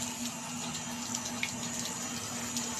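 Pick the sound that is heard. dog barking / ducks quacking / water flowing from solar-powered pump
water flowing from solar-powered pump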